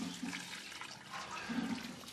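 Water poured onto young plants in a garden, a soft, steady splashing and trickling stream lasting a couple of seconds, with no voices.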